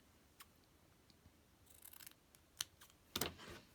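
Scissors snip hemp twine during a paper-craft collage session, giving a few quiet, close clicks and short cutting sounds over near silence.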